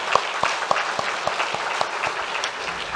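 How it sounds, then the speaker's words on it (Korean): A congregation at a Korean Sunday church service claps in a dense, steady applause with a few sharper individual claps standing out, and there is no speech. "우리 그렇게 될 줄 믿고 주실 하나님께 영광의 박수 올려드리겠습니다."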